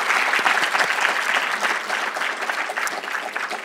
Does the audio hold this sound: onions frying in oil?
no